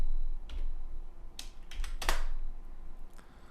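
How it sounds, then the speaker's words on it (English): Computer keyboard typing in a quiet room: a few scattered, soft key clicks and clacks, close by and faint, with pauses between the strokes. "So I type in width"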